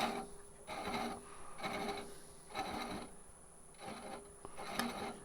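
An Ashley Iles thread chaser cuts a thread on a lathe turning at 260, giving a faint, repeated rasping scrape in about five even passes, each roughly a second long, with no talk.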